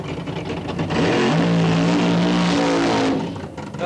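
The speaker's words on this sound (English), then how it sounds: "Another big burnout by Jerry Ruth." A 1975 drag racing car at Boundary Bay Raceway does a burnout, its engine roaring loud and sustained with rising revs and a rough, steady howl before easing off.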